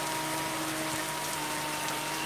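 Rain falling during a Porsche Cup car race in a video game, a steady hiss of rain spread evenly throughout under a constant engine drone, with no talking.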